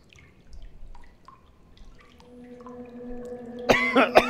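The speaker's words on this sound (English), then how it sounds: "Sorry for coughing in everyone's goddamn fucking faces." A person coughs twice in quick succession near the end, loud and close, after a stretch of quiet tonal background sounds.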